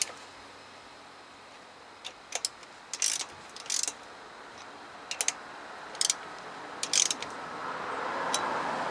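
A ratchet snugs bolts during a clutch job on a 2007 Toyota Tacoma 2.7 with a five-speed manual, heard as short, quiet bursts of rapid clicking separated by pauses.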